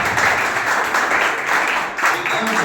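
Students at a tuition-class quiz competition clap together in a short, dense burst of applause, close and fairly loud throughout, with a brief dip near the end.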